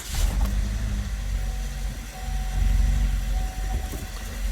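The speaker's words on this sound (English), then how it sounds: "Now you can proceed inside the vehicle and start it." A car engine starts and settles into a steady, low rumbling idle, close and continuous, with no one talking over it.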